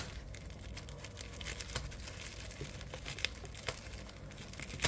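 Card packaging of a Matchbox car crinkles and tears in quiet bursts as it is opened. The rustling is close and goes on unevenly throughout.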